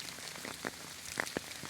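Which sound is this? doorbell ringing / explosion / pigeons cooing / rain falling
rain falling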